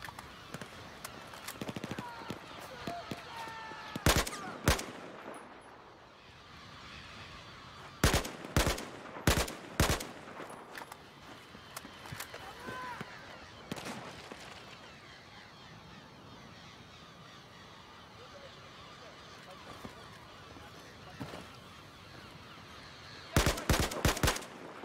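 Sharp, loud Battlefield 4 video game gunshots come in short clusters of several rounds, separated by quieter stretches of ambient battle noise and faint radio-style voices.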